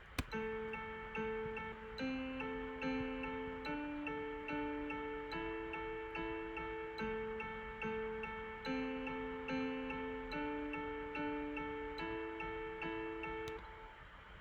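A simple software piano melody of evenly spaced notes stepping up and down, playing steadily and quietly with a clean electronic quality.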